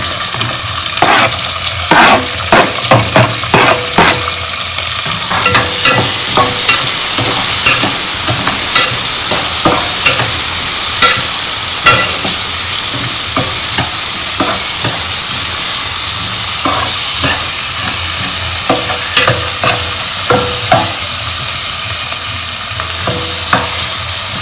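Onion and garlic fry in a pan, a loud continuous sizzle broken by frequent scraping stirs, close up with no voices.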